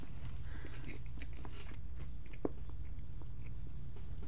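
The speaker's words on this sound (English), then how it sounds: "I'll try not to chew too close to the microphone for you listening at home" Someone chews a smoked beef bagel sandwich with mustard, close to a radio microphone. The bites come as soft, steady, moist crunches and mouth sounds, with one sharper crunch midway and no talking.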